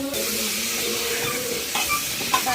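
Tomato pieces stirred into sizzling masala in a pan, a steady close frying hiss with soft scraping stir strokes and a couple of brief clinks near the end, no talking.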